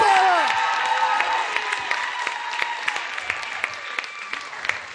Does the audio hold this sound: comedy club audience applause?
yes